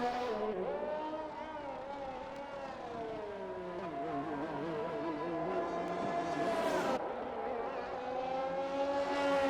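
A race car engine heard from onboard in a sim race at Brazil, loud and steady for the whole stretch, its pitch rising and falling as the car brakes, downshifts and accelerates again, with one sharp upshift near the end.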